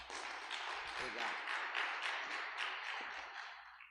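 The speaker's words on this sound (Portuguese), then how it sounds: "Vamos recebê-lo aplaudindo o Senhor nosso Deus" A church audience at a businessmen's and businesswomen's gathering breaks into dense, sustained applause. The clapping holds steady for several seconds, then tapers slightly, with a few voices mixed faintly underneath.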